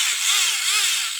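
A Tamiya 74041 handy drill runs with a steady, high-pitched whine from a small electric motor that holds level through a brief burst.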